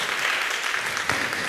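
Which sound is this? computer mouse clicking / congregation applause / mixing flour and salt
congregation applause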